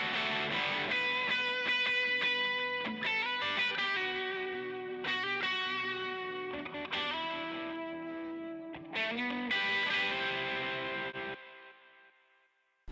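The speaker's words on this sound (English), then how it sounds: "So this is what it sounds together with the reverb finally" A full song mix of drums, bass and guitar with added reverb plays alone, with chords in a steady rhythm and a long, lingering reverb tail as the final ending fades out.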